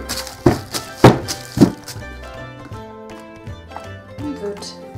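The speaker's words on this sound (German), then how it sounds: "die Form mit dem Teig mehrmals auf die Tischplatte klopfen" A cake tin filled with batter is knocked against a tabletop several times, giving three loud, close thumps in quick succession, followed by quieter handling clatter in a kitchen.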